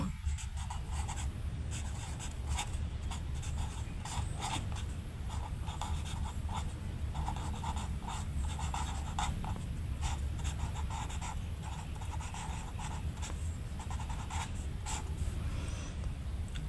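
A pen scratches numbers onto paper while a math sum is worked out, a steady close scribbling that carries on without a break and stands alone with no voice.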